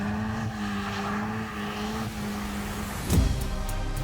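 Car sliding sideways across a wet, hilly test track, a steady engine drone with rising and falling harmonics running throughout, then a brief louder burst of splash or tyre noise near the end.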